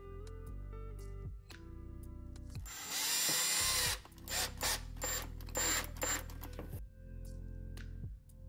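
A power drill drives screws into IKEA cabinets, whirring up and down in repeated pitched runs with a loud grinding stretch and several short bursts, close by with no talk.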